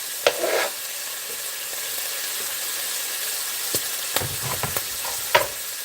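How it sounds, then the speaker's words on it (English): Ground beef with Worcestershire sauce sizzles softly in a pan beneath a steady hiss, broken by a few scraping stirs of a utensil near the end. "Stir this all up."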